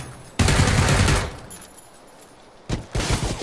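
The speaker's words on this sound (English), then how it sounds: "Someone else is shooting at me." Automatic gunfire in PUBG (PlayerUnknown's Battlegrounds) comes in two loud rapid bursts, the first lasting about a second and the second arriving after a short pause.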